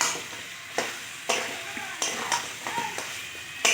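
Mutton fries with added fat in a pan, giving a continuous close sizzle that is broken by repeated sharp scraping stirs at irregular intervals, with no talk.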